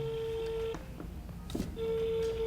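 A telephone ringback tone plays while a call is placed: a steady pure tone that stops briefly and then resumes, with a faint sound in the gap.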